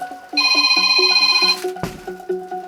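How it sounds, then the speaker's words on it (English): A telephone rings with a loud, steady electronic trill that pulses in a rapid repeating pattern, interrupted by a sharp clunk, after which a quieter beeping tone continues alone. "Not answering that phone."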